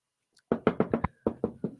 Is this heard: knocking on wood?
yes